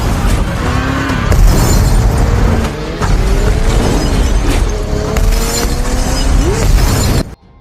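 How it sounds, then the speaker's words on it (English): A massive explosion tearing through a building in an action film, a loud dense roar of blasts, shattering debris and rumbling low end that surges throughout before cutting off abruptly at the end. "A few seconds after, a massive explosion erupts in the structure."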